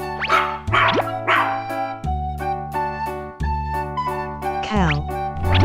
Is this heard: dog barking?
yes